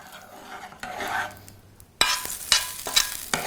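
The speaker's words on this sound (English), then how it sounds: "We pour this immediately into the yogurt. Now it starts to sizzle" Hot oil poured into yogurt: quiet stirring and scraping, then a sudden loud sizzle that crackles and hisses with a few sharp pops.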